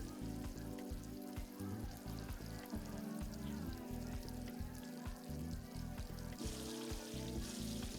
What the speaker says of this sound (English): somebody's just there with a frying pan cooking eggs